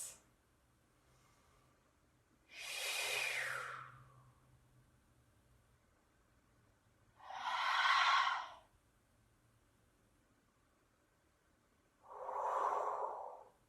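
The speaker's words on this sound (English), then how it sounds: "breathe deep for 3 breaths" Three slow, deep breaths taken while holding a vinyasa yoga pose, each a long airy exhale or inhale lasting about a second and a half, close and clear with quiet pauses between, no talking.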